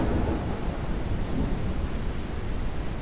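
Steady rain pours with a low thunderstorm rumble in Beasts of Bermuda, a dense even wash of noise that holds with no pauses or voices.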